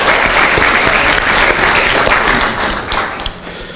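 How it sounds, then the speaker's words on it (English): A loud round of applause from an event audience for the volunteers, dense clapping that holds steady, then thins slightly and tapers near the end. "So, one more round of applause."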